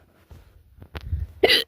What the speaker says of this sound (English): got the hiccups again.